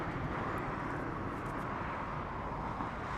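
A Southwest airliner taxis for departure at Los Angeles International Airport, giving a steady broadband jet rumble and whine that holds at an even level throughout, with no talk over it.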